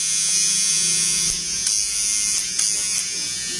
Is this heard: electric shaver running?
yes